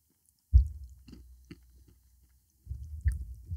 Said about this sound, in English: The cashews are soft with a crunch.